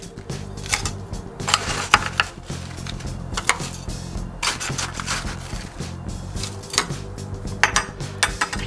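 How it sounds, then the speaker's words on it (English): Ice cubes dropped and rattled into a glass while building a parsley julep, a run of clinking, clattering bursts at irregular intervals, close and fairly loud, with no voices. "I'm gonna cap that off with some ice. I'm gonna fill it about 3/4 of the way."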